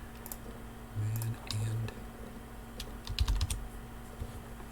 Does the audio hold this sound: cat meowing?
no